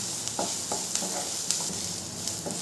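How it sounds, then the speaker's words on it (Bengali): Grated onion and garlic frying in a pan for potato chops, a steady soft sizzle with repeated scraping stirs at a regular rhythm, close and alone without talk. "পেঁয়াজ রসুনটা খুব ভালো করে ভাজা ভাজা হয়ে গেছে।"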